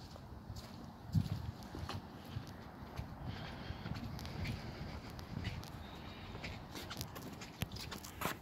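Horse hooves clip-clop at a steady walking pace in a television commercial, fairly faint and close-miked, with soft thuds and no talk over them.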